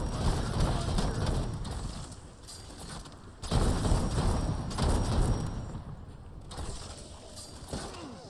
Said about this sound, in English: It's a maggot launcher.